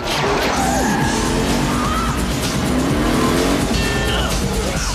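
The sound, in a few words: Gadget Mobile car speeding off with tire squeal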